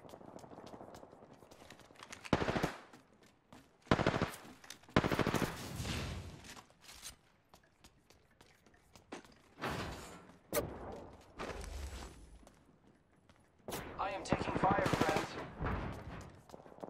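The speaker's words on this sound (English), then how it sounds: "I'm getting shot at." Gunfire in the video game Apex Legends, loud separate bursts of automatic shots and single cracks between quieter stretches, with a player talking now and then.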